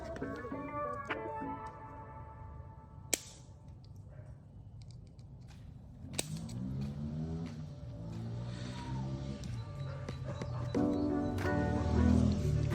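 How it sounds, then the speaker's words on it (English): A neighbour's new motorbike revs in the background of a quiet workshop, a faint, distant engine rising and falling in pitch, with a couple of sharp clicks nearby. "Got a neighbour with a new motorbike in the background and slowly annoying the whole neighbourhood"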